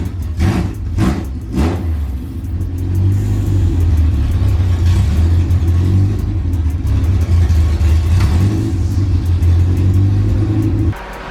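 An Acura Integra with a B20 engine set up for nitrous runs loud and close, with a few quick revs at first, then a steady, heavy rumble that cuts off abruptly near the end.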